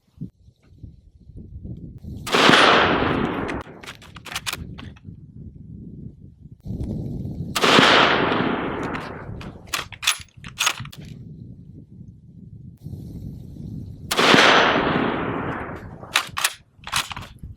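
Three sharp, loud Mosin Nagant M91/30 PU sniper rifle shots ring out outdoors, several seconds apart, each followed by a long echoing tail, with faint clicks and handling noise between shots.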